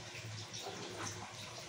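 Dishes being washed under a running tap, a steady faint stream of water splashing with light clinks, heard alone.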